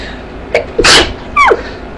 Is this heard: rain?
no